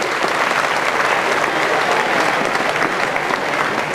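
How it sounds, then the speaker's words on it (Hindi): An audience claps steadily and loudly at a talk on the role of youth in nation building, a dense, continuous burst of applause with no speech over it. "हाँ बहुत बढ़िया, ताली बजाओ।"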